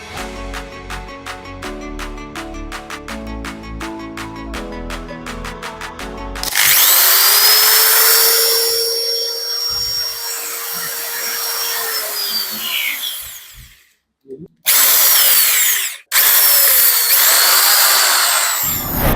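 A Stanley 8013 drilling machine with a newly replaced chuck whirs loudly and steadily at close range for several seconds. It winds down, then fires again in short bursts.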